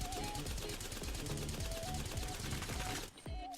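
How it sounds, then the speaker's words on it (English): Rapid automatic fire from the Havoc energy rifle in Apex Legends, a dense sustained burst of shots lasting about three seconds before cutting off, with a brief sound-effect tail after, loud and close. "Havoc hipfire shreds"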